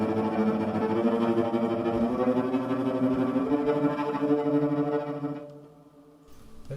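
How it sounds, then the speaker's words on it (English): A cello plays a sustained tremolo, the bow rapidly shaking on a low note to give a shimmering, continuous tone that fades out near the end. "is an effect called tremolo."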